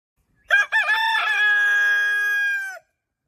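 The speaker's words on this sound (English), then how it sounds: "heard the rooster crow" A single loud rooster crow, a stuttering start drawn out into a long sustained call before cutting off, alone against silence.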